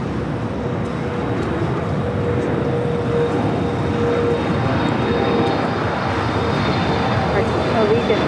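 FedEx cargo jet arriving at LAX from Memphis, a steady broad engine roar holding at moderate loudness throughout, with no voices over it.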